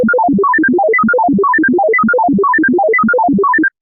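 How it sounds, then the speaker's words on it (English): A sequence of short synthetic pure tones from a listening experiment changes from a random order of pitches to a regular repeating pattern, played as a fast, even stream of beeps at a constant loudness. "half of the stimuli had these transitions from random to regular structure"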